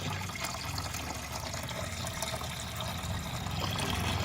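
Water rushing steadily from a hose back-flushing a car heater core, a constant hissing gush with a slight rise toward the end, close and alone.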